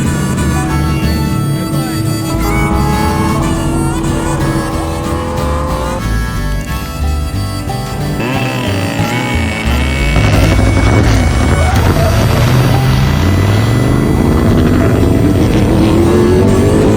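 A motorbike engine fires up and runs loudly, revving repeatedly with rising and falling pitch over a rough, throbbing idle.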